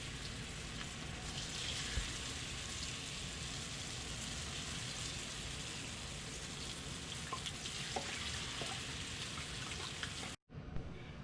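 Battered vegetable tempura, including bell pepper, sizzling in hot oil, a dense steady crackling fry that holds at the same loudness throughout, with scattered pops and a brief cutout near the end.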